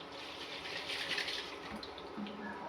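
Water is poured into a kitchen chopper holding leftover tomato, a soft continuous splashing and trickling at low volume, with no voices.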